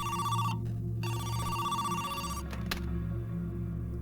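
A mobile phone rings with a repeating electronic tone pattern, fairly loud and close, the ringing pausing briefly and resuming, with no voices over it.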